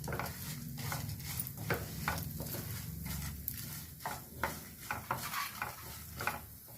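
Coriander seeds, cumin and other spices dry roasting in a pan: a soft, quiet scraping and rattling of seeds being stirred with light patter and occasional spoon knocks against the pan, and no talk.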